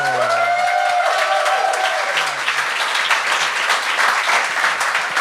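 Studio audience at a Gong Show talent competition applauding a contestant, a loud, full burst of clapping that carries evenly throughout, briefly overlapping a fading voice at the start.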